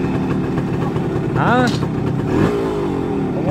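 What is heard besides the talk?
50-year-old motorcycle engine starting and revving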